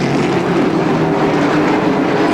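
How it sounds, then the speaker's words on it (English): Dirt-track race car, the number 25 at Motordrome Speedway, running with an engine miss while hitting the rev limiter at high revs; a loud, continuous mechanical roar fills the whole stretch with no voices. "I'm told he's hitting the rev limiter, and it sounds like a miss."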